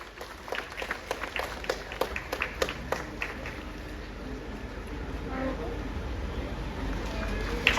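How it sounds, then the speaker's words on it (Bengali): Scattered clapping from a gathered congregation at a Catholic church opening in Ranaghat, bursts of claps in the first few seconds fading into a low, steady crowd murmur. "সকলে জোরে হাততালি দিন।"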